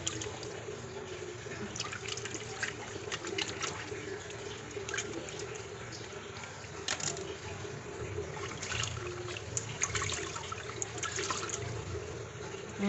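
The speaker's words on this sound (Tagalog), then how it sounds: "Tapon na natin yung tubig na to." Water that was used to wash pork for kare-kare being poured out, a continuous splashing and trickling stream with scattered drips, steady and moderately close, no speech.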